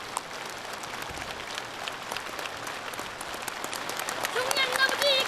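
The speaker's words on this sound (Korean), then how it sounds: "만세의 환호를 올렸습니다" A large crowd at a state ceremony breaks into sustained applause mixed with cheering, swelling louder toward the end with a few shrill voices rising above the din.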